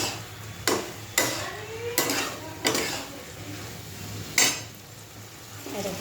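Mustard paste is stirred into a mixed vegetable chorchori curry in a pan, with several sharp metallic spoon knocks against the pan over a low, steady simmering hiss and a faint background hum.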